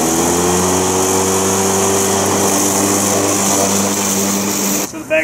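A WORX WG788 19-inch 36-volt cordless battery lawn mower runs with a steady, loud motor whine and blade hum, cutting off abruptly near the end.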